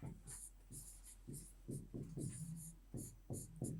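Writing on a board during a science lesson produces short scratchy strokes in an irregular rhythm, close and fairly quiet.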